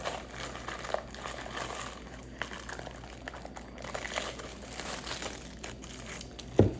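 Loose packing paper crinkles and rustles steadily while a DYMO LabelWriter 4XL bundle is unboxed, close and fairly quiet, with a sharper crunch near the end.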